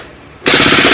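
Toy gun set to automatic fires a sudden loud, rapid burst of shots that starts halfway through and keeps rattling to the end, alone with no talk.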